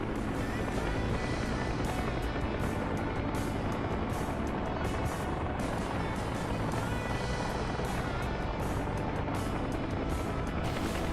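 A steady aircraft engine drones continuously at close range in DCS World, a dense unbroken mechanical roar with faint rhythmic ticking on top and no break throughout.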